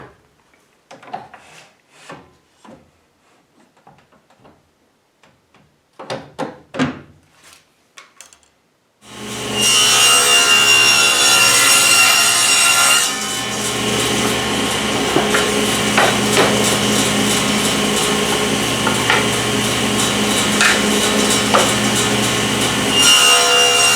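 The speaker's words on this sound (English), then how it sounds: "Now I want to cut the groove on the inside" Close, loud sawing as a groove is cut along the inside of a wooden drawer in a storage cabinet. A few light knocks and scrapes come first, then a continuous rasping cut runs steadily for about fifteen seconds.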